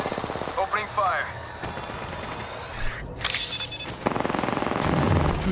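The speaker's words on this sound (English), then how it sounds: "Getting shot at. Opening fire." Video game gunfire in a shooter match, scattered loud shots early on, then a rapid, evenly spaced burst of automatic fire toward the end, mixed with game voice callouts and other combat noise.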